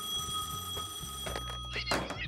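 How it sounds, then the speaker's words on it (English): A telephone rings with a tinny, trilling bell tone held steadily, over a soft musical background with a few knocks and thumps toward the end. "The phone rang."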